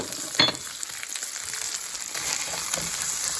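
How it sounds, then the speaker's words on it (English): Rough-chopped onion sautéing in a pan with ghost pepper chorizo gives a steady, close sizzle and hiss, with a brief louder crackle or stir near the start and no talking. "So now I'm just gonna saute this for a while."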